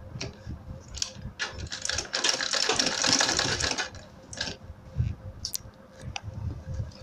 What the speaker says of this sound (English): I will like turn it in like this and sew it on top so that it will now lie flat